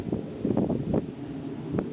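Strong wind gusts buffet the microphone outdoors beside a young grapevine on a trellis, producing uneven low rumbling bursts that swell and fade over a couple of seconds.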